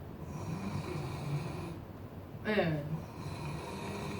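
A person imitates snoring in a rough, rattling snort of a couple of seconds, with quiet talk before and after.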